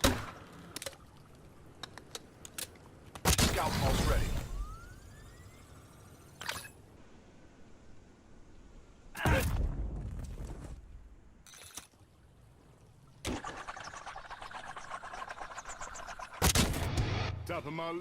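Spawn tube fired in Black Ops 7 on the Retrieval map, heard as several loud booming launches and blasts spaced through the stretch, punchy and close over a steady game ambience.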